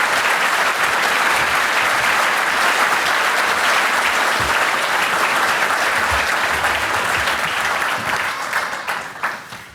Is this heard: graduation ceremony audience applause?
yes